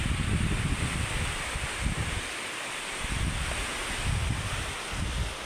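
Wind and surf on a littered seashore at Matabungkay beach, a continuous broad roar with gentle rhythmic swells of breaking waves, and no voices.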